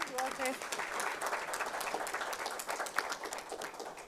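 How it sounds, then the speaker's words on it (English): Audience applause for participants of an inter-secondary school food safety debate competition, steady dense clapping from a room full of people across the whole stretch, with a voice briefly heard near the start. "I want to give you all a round of applause"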